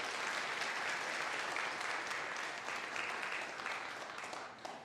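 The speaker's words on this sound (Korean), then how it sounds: "잠시 자리에서 일어나시면 우리 박수로 환영하도록 하겠습니다" A church congregation applauds to welcome a student at a Sunday worship service, with steady, fairly distant clapping filling the room and gradually tapering off.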